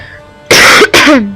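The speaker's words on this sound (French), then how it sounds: "j'ai un petit peu la toux" Two sharp, loud coughs in quick succession, close up, with a rough throat-clearing quality and silence before them.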